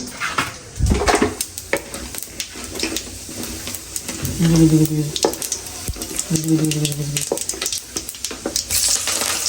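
Cumin seeds fry in a hot pan with crackling sizzle and spoon stirring, close and fairly loud, with short tonal clinks of utensils and occasional voices in the background.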